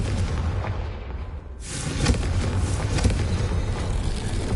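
The Confringo blasting spell goes off in a Harry Potter video game with a sudden loud boom, and a rumbling, noisy blast continues steadily for a few seconds after a brief quieter lead-in.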